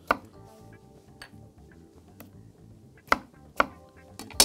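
Corn being cut into pieces with a knife, sharp knocks on a cutting board spaced irregularly, with a quiet clatter in between.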